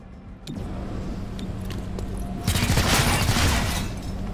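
Weapon fire in the tactical video game XCOM: Chimera Squad, with sharp shot transients and a denser, louder burst of gunfire in the second half over a steady game background.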